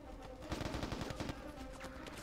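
Rapid automatic rifle fire from a mercenary-style shooter game, a tight burst of about a dozen sharp shots in the middle of the clip, moderately quiet and set against a steady background hum.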